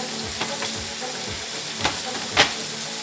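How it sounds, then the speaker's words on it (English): Grouper fillets searing in a hot pan, a steady loud sizzle and crackle with a few sharper spatters and scrapes as the fish is turned, no talking. "I'm beginning to flip the grouper fillets here, and they are really searing up nicely"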